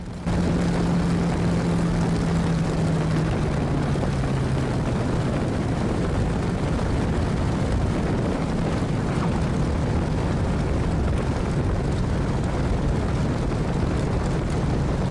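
Hawker Hurricane warbird landing, its piston engine droning steadily and loud throughout with a low tone sliding slightly down in pitch early on, no talking.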